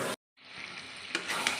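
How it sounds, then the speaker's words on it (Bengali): Chicken with spices and a little sugar is fried and stirred in a pan, giving a brief cut of sizzling followed by a steady close frying hiss with a few scraping stir accents. "যতক্ষণ না মাংস থেকে তেল ছাড়ে ততক্ষণ আমি কষতে থাকবো।"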